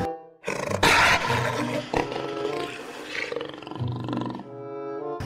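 A big cat roar effect for a leopard: one loud, rasping roar that swells, then trails off into a lower growling rumble, heard close and alone.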